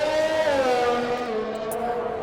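A video-game race car on intermediate tyres pulls away from a restart at the Baku street circuit, its engine note climbing in a loud, continuous rising whine with strong harmonics, close and steady throughout.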